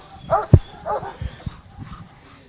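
A police dog at a canine unit training exercise gives short barks and whimpering yips, a few close bursts with some faint voices in the background.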